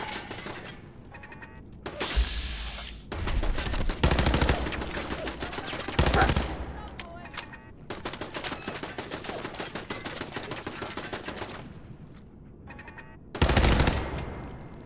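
Rapid automatic turret gunfire in Fallout 4, dense rattling bursts running through most of the stretch with louder peaks, heavy low booms near the start and end, and a voice speaking briefly.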